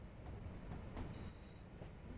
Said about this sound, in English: This train is a BR Class 323 electric multiple unit in Northern Trains livery.